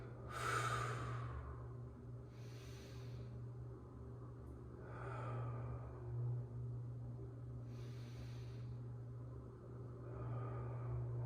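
Slow, deep breaths drawn during a yoga stretch, several audible inhales and exhales spaced a few seconds apart over a steady low background hum, no talking.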